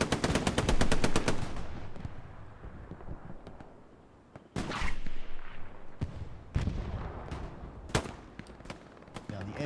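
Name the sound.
machine gun fire in a WWII video game at Utah Beach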